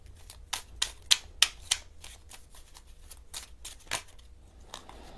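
Tarot cards are shuffled and drawn by hand, giving a string of sharp, close riffling snaps and flicks that come in uneven bursts, with no voices over them.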